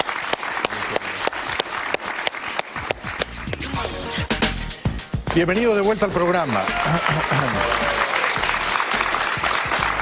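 A Spanish-language television studio audience applauds a guest, former Colombian president Álvaro Uribe, with dense continuous clapping throughout while a host speaks over it, and music rises in the second half.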